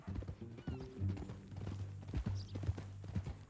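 Horse hooves clip-clop in Red Dead Redemption 2, a steady rhythmic run of hoofbeats at moderate distance under a low, tonal game ambience.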